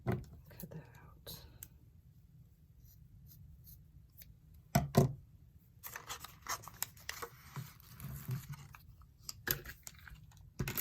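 Scissors snip through paper for a collage journal, close-up and quiet, with scattered crisp cuts and paper rustles spread across the stretch and a couple of louder handling knocks midway.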